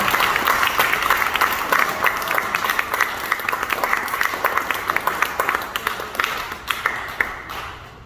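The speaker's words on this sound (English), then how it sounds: "Let's hear it again for Robbie." An audience at a Wordstock poetry reading in Balboa Park claps steadily for about eight seconds after a reader finishes, the dense applause thinning slightly toward the end, with a few voices underneath.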